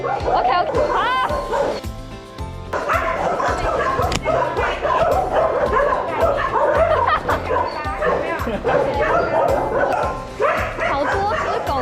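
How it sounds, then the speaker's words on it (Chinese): Many dogs at a stray animal shelter bark, yip and whimper nearby in overlapping bursts, the clamour continuing while people talk over it. "好多只狗狗哦"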